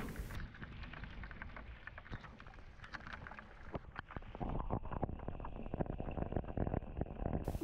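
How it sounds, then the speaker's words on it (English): Rainstorm over a pond, a dense, steady hiss of rain spattering on water and surroundings, growing heavier and closer partway through, with scattered sharper drops and no voices. "The storm hit right whenever we released them into the pond."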